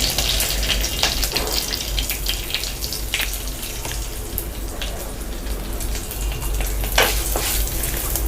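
Asafoetida and whole shallots sautéing in hot oil after mustard seeds for moong dal sambar, a continuous dense sizzle and crackle with occasional scraping, close and loud, no voices.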